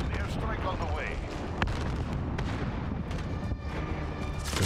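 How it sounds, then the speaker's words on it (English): A precision airstrike in Call of Duty Modern Warfare multiplayer pounds the ground with a dense rumble of explosions and booms, heavy and continuous, while players talk over the blasts. "Friendly precision airstrike on the way."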